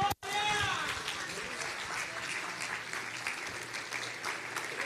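A church congregation claps to glorify Jesus, a sustained wash of many hands, fairly faint and distant, with a brief dropout at the start and voices faintly beneath.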